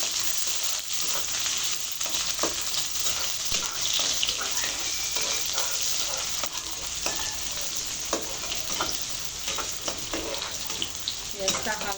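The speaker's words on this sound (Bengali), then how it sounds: "পেঁয়াজটা একটু ভেজে নিচ্ছি।" Onions frying in a pan for a prawn curry with vegetable stalks, giving a steady close sizzle throughout with frequent light scraping and stirring clicks and no talk.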